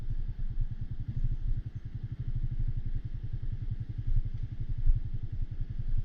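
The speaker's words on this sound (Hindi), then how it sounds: "bike full left right skid हो रही है but yet again we are coming down" A motorcycle engine thuds in a rapid, even low beat as the bike descends a steep, slippery downhill road, the sound steady and moderately loud with small swells, no talking.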